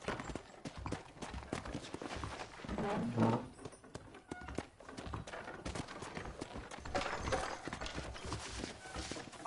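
Horse hooves clip-clopping at a walk in the Red Dead Redemption video game, a steady moderate patter of steps over a busy game soundscape with a brief louder swell midway.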